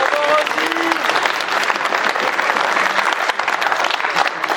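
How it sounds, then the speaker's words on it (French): Loud, dense applause from a crowd at a team gaming tournament, sustained and steady throughout, with voices faintly mixed into the clapping. "Un tonnerre d'applaudissements pour elle."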